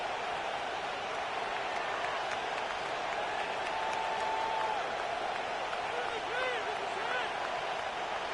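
A stadium crowd at a football game makes a steady, roaring wash of cheering and noise, with scattered whistles and shouts rising through it. The sound is continuous and moderately distant, and no clear talk is heard.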